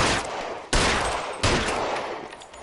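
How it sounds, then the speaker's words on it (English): Three sharp, loud gunshots in the video game L.A. Noire, evenly spaced, each with a long echoing decay, with no talk. "You just shot an officer."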